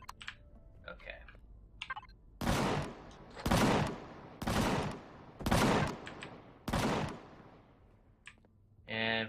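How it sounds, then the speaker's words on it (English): Defense turrets in a space-survival video game fire in five long, loud sustained bursts of rapid automatic gunfire, evenly spaced, with faint clicks and small sounds in the quieter gaps between them. "the turrets are going crazy, shooting at something out there"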